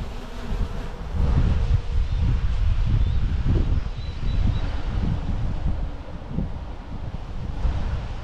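Gusty wind buffets the microphone outdoors while a DJI Mini 3 Pro drone flies nearby, its faint insect-like buzz mixing with steady, loud rushing wind and brief rustling.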